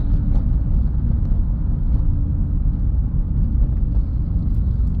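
A Suzuki Swift with a clutch actuator fault pulls away from a green light, a steady low engine and road rumble heard from inside the car, without any clear rise in pitch.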